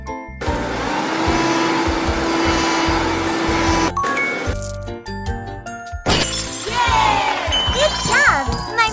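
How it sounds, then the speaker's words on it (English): A cartoon vacuum cleaner whirs steadily for about four seconds in a kids' cleaning video game, then gives way to bright chimes, jingles and game music effects. "vacuum here, too."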